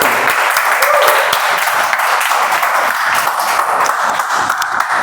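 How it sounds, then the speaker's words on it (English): An audience at a Toastmasters meeting applauds: dense, steady clapping from many hands filling the room for several seconds, fairly loud and close. "Let's give another thunder round of applause"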